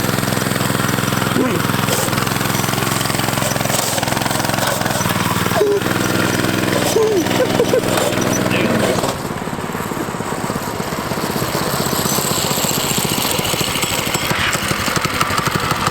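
A shopping-cart go-kart's small engine runs loud and rough with a chattering, jackhammer-like rattle that shifts into a lower, busier rumble about halfway through, with people talking over it.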